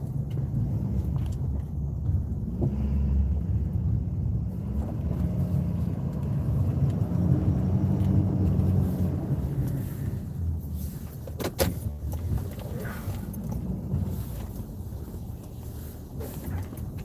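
A snow plow truck reverses during a winter storm, its engine rumbling steadily inside the cab with a few clunks and rattles partway through.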